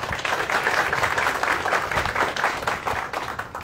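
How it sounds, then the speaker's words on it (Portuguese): Steady, dense applause from a crowd at the inauguration of a pediatric inpatient center in Uberlândia, following a band performance with violin and saxophone; continuous and fairly loud, with no talking over it. "uma salva de palmas"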